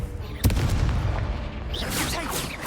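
A Confringo blasting spell goes off in Hogwarts Legacy with a sudden deep boom followed by a rumbling tail, while other spell effects whoosh and chime in the background.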